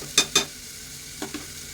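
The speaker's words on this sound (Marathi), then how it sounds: "टॅमॅटो चांगला मऊ होऊन दे. तेलात चांगला परतून घेतला." Tomatoes softening in hot oil in a pan, low sizzle beneath four sharp spoon scrapes against the metal, two close together early and two fainter ones later, no talking.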